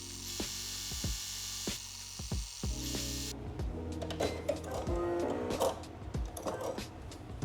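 A sewing machine runs overcast stitches along the edges of linen dress pockets, giving short mechanical stitching bursts and clicks at close range, fairly quiet, with no talk.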